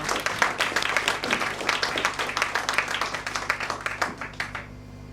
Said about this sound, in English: Let's give up another round of applause